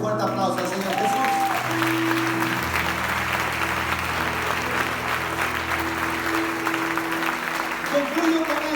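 A Spanish-language church congregation applauds during a sermon, with steady crowd clapping over sustained organ or keyboard tones throughout and a few voices rising within it.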